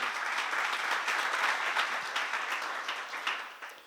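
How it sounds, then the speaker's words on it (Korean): Church congregation applauding at a Korean seminar, a dense steady wash of many hands clapping that holds evenly for a few seconds and then slowly thins. "박수로 하자"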